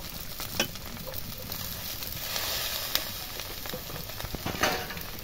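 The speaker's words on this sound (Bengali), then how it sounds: "এবার আলু ভাজাগুলো ঢেলে দেব।" Fried potatoes are tipped into chowmein in a pan and stirred, giving a steady close sizzle with several sharp scraping and clattering strokes of the spatula.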